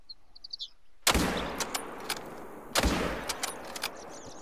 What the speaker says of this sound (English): Perfect follow-up shot.